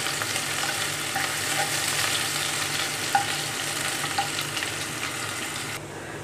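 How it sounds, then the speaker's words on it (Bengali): Chopped onion and garlic sizzle in hot oil for a tempering for a coconut and pumpkin curry, a steady, close crackling hiss with occasional light stirring clinks. "আর দিয়ে দিচ্ছি এক পেঁয়াজ রসুনের কুচি। দিয়ে এটাকে আমি খুব সুন্দর একটা বাগার তৈরি করে নিব।"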